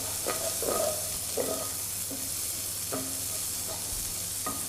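Leeks frying in a pan with salt, a gentle steady sizzle with several soft scraping stirs at irregular intervals, close and fairly quiet with no talking.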